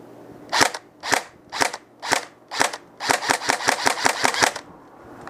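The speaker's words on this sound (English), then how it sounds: "it's a little bit more sluggish, but it is still firing very well." A KWA SR10 2GX airsoft rifle fires about five evenly spaced single shots, then a quicker run of roughly eight sharp snapping shots, loud and close with no talking.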